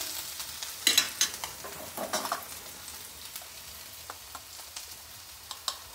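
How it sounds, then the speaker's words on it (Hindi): Ginger frying in a pan for a desi-style cauliflower paratha filling, a quiet close sizzle broken by scattered light spatula scrapes and taps. "ये अदरक है हमारा, तो अदरक को भी हम डाल देते हैं और इसे भी हम थोड़ा फ्राई कर लेते हैं"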